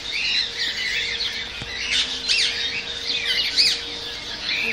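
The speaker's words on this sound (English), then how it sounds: "the whole cage is full of parakeets" A large zoo cage in Belgrade packed with parakeets gives off continuous, dense chirping and squawking from many birds at once. The chatter is close and fairly loud, with sharper calls standing out, and no voices.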